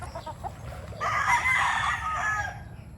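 A fighting rooster lets out one loud, close crow lasting about a second and a half, rising then trailing off, with a few faint clucks before it.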